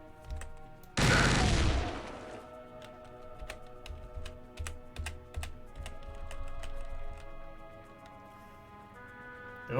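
Rocket launcher fired in a Doom mod, a loud burst of blast noise lasting about a second and a half, followed by a rapid series of sharp clicking and ticking impacts over a steady game backdrop.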